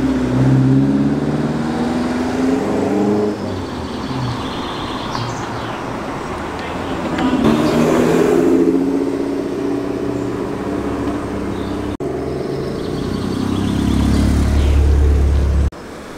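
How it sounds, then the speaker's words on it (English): A Saab car engine runs at a classic car show, a steady broadband motor noise that swells around the middle and again near the end, with outdoor ambience and occasional voices. "Another fantastic Saab."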